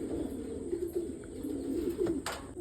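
Domestic pigeons kept for sale coo softly, with a low, rounded murmur repeating under a faint steady hum, quiet and close.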